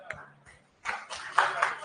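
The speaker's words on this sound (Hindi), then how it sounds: "ताली बजा दो एक बार" Students in a classroom clap their hands together in a short, scattered burst of applause that starts after a brief pause and lasts about a second, with a faint voice nearby.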